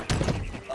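A brief strained whinny-like cry from a dying horse in a video game, short and fairly loud, with nothing else around it.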